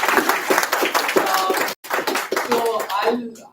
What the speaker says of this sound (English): round of applause for him for showing up